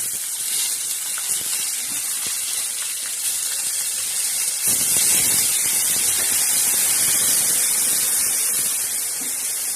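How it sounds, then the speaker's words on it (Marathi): Eggplant goes into a hot pan seasoned with red chili powder, turmeric and salt, setting off a loud, steady hiss of sizzling oil that surges midway and keeps going close up, with no speech. "आता आपण वांगे टाकून घेतो"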